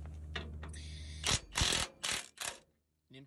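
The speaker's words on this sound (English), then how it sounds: "these bolts in the front on both sides are 3/4 inch. You're going to loosen both of them." Ratchet wrench loosening 3/4 inch bolts at the front of a manure spreader: a series of loud, close ratcheting bursts in quick succession, each a few tenths of a second long, ending in a short final click burst.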